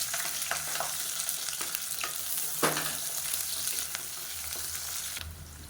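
Long-sliced large onions frying in oil with cardamom, cinnamon and cloves for a mushroom biryani, a steady loud sizzle with soft stirring scrapes throughout, no talk.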